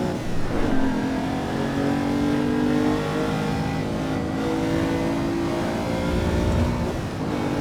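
Naturally aspirated GTO supercar engine in the Assetto Corsa EVO racing game, loud continuous acceleration with a rising, harmonically rich tone and brief shift dips, steady and close.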